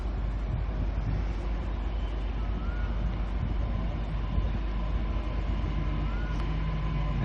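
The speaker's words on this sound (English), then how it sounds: "Now, this train is heading to Caboolture." A passenger train at Petrie station in Brisbane, heading to Caboolture, gives a steady, loud rumble of wheels and engine that holds throughout, with a faint high squeal near the end.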